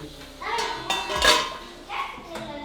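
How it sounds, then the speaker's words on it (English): Metal pots and pans clank and scrape while rice cooks on a wood fire stove in Guatemala, a few sharp knocks over a busy background with faint voices nearby. "For the first time, I'm cooking with the wood fire stove."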